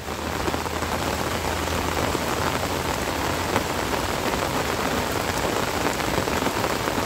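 Steady, heavy rain falling continuously, a dense hiss of drops on surfaces with no voices.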